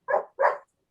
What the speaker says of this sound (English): My stupid dog.